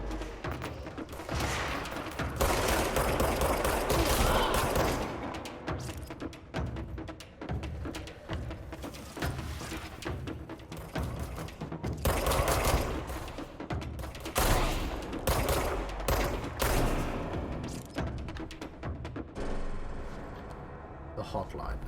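Gunfire from the action game Control, shooting through a wooden structure: loud, dense bursts of shots and impacts that swell and ebb over twenty seconds, with someone talking at times.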